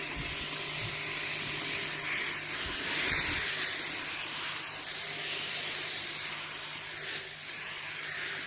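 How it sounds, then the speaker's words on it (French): A 1400 W Mioduro handheld garment steamer hisses steam onto a shirt, a continuous close-up rush with light rubbing of fabric and no speech. "Parce que là, il y a quand même pas mal de vapeur"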